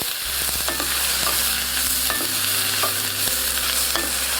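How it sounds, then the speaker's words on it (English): Thinly sliced onions sizzle steadily as they fry in a single pot for a one-pot vegetable buckwheat dish, with a few scraping stirs of a utensil over the constant frying hiss, close up and without talking. "And we're having quick stir now."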